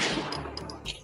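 A gunshot sound effect in a meme gives a short burst of sharp reports with metallic ring, over in about a second.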